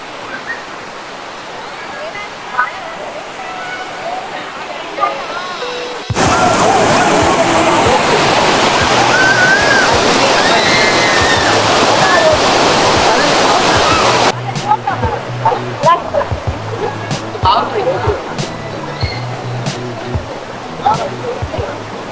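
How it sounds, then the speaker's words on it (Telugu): Anantagiri waterfall in the Araku Valley hills: a constant roar of rushing, splashing water that swells sharply louder for several seconds in the middle, then drops back to a steadier flow with scattered splashes and knocks. "వాటర్ ఫాల్ మాత్రం నెక్స్ట్ లెవెల్"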